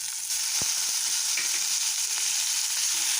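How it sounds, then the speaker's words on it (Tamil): Gooseberries (amla) sauté in a hot pan for coriander chutney, a loud continuous sizzle and crackle with an occasional stirring knock, no talk. "இந்த நெல்லிக்காயெல்லாம் எப்படி கலர் மாறி வதங்கிடுச்சு பாருங்கள், சூப்பராக."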